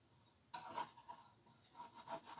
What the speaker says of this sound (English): We'll get my putty scraper and get the scraping.